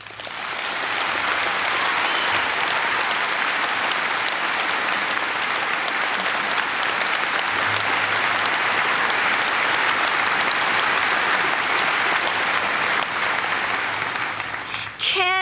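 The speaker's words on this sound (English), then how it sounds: "You may applaud." A large university audience applauds steadily for about fifteen seconds, a loud, dense wash of clapping that stays even throughout.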